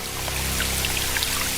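Water running from a doll's toy shower, a soft continuous pour and trickle with faint droplet splashes over a low steady hum, close and alone without speech.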